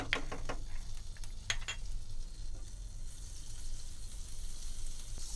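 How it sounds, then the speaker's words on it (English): Oil and butter heating and melting in a pan before mushrooms go in for a mushroom masala, a soft, steady sizzle with a few sharp crackles and stirring clicks near the start, quiet and close. "we're going to add some of the oil, as well as the butter, and we're going to let it melt."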